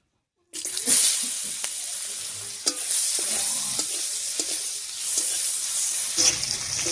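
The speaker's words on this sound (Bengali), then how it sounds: "এবারে মাছ ভাজার এই তেলের মধ্যেই পেঁয়াজ কুচি দিয়ে ফোড়ন দেবো" Chopped onion hits hot oil left from frying fish, starting a sudden, loud, continuous sizzle with occasional stirring clinks, cooked for a dried-fish shutki dish with pumpkin shoots.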